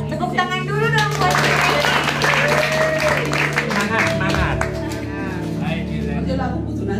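Congregation at an Indonesian church testimony service clapping hands, a steady patter of claps running throughout beneath loud ongoing talk and background music.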